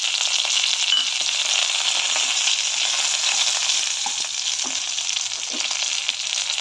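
Whole garam masala spices (bay leaf, cinnamon, cardamom, black pepper, cloves and dried chilli) frying with reddish-browned onions in hot oil for egg curry, a loud, constant close sizzle with small pops and no talk.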